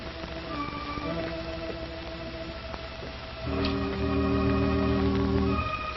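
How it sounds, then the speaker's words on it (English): Rain falls on a roof in a steady, soft patter, with a low hum and tonal music rising beneath it partway through and growing louder toward the end. "Let it rain on your pretty roof."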